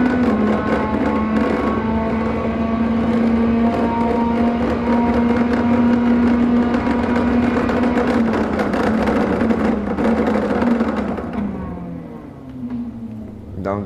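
Race car engine on a lap of the MotorLand circuit, loud and close with a sustained droning tone that holds steady, then drops off as the car shifts down, with faint talk mixed in.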